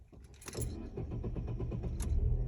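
A car engine cranks and starts with a turn of the key as the driver holds the clutch and brake, heard close up with keys jangling and a steady rumble building to idle.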